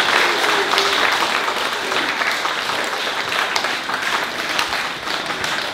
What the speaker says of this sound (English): Let's give one to him a great big clap.